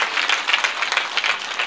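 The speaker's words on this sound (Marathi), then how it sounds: "जोरात टाळ्या वाजवा, टाळ्या कमी पडतायत तुमच्या" An audience at a devotional discourse claps in a dense burst of applause, steady and fairly loud throughout.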